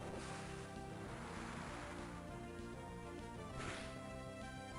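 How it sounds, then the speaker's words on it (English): The Water Spout attack in a Pokemon game roars as a dense, steady rush of crashing water that stays loud and unbroken the whole time. "Let's lead on Water Spout."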